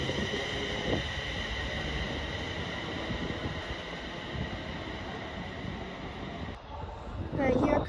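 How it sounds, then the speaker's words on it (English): A ScotRail Class 380 electric train runs through Paisley Gilmour Street with a steady broadband rush and rumble of rolling stock that holds throughout before shifting near the end. "Right, here comes the early by 1 minute Scotrail service to Glasgow Central"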